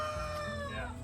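Chickens in a backyard flock at feeding time, giving a close, steady run of clucks and calls with no talk.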